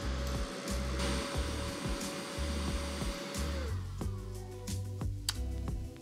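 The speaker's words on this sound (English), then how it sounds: "And then let's turn on the heat gun." A heat gun runs from a portable battery power station with a steady, loud blowing whir, its tone shifting partway through as the load changes, with no talking.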